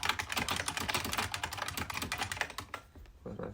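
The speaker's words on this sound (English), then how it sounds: "With my very loud keyboard." Rapid, loud clicking from a noisy computer keyboard, keys struck in quick irregular bursts close to the microphone, easing off briefly near the end.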